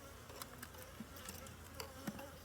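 Honeybees buzzing steadily around a newly established hive during an inspection, a close, continuous drone with individual bees flying past the ear in brief louder swells.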